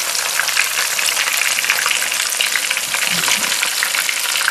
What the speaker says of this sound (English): The oil gets hotter now. It's going to spit at you a little bit, so be careful.